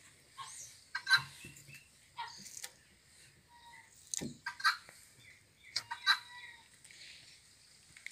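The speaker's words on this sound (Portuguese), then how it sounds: "Ah, não, tem uma galinha aqui dentro." A chicken clucks inside a pig pen on a farm, giving a series of short, moderately close calls spread over several seconds with quiet gaps between them.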